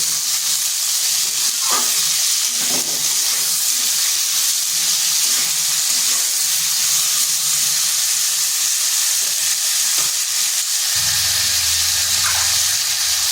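Salted cauliflower stalks fry in a pan with a constant loud sizzle, close up, while occasional stirring scrapes and clinks cut through the hiss.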